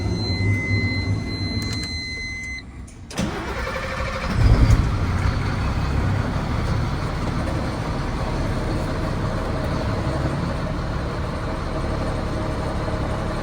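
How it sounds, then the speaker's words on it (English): A heavy truck's diesel engine cranks and catches during a pretrip safety start, then settles into a loud, steady idle that rumbles on alone for the rest of the clip. "clutch in, our brakes are set, and we'll start the truck"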